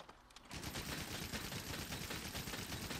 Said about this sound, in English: I now have a machine gun.